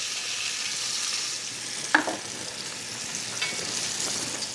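Turkey rolls dusted with flour sizzling steadily in a pan, a constant frying hiss with one brief sharp clack of a utensil midway.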